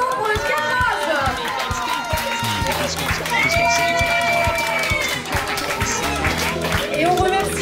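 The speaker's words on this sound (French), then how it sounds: "On l'applaudit bien fort pour le cadrage." An audience applauds and cheers at an evening aperitif event, clapping mixed with shouts and whoops from a lively crowd, while a steady rhythmic music beat runs underneath throughout.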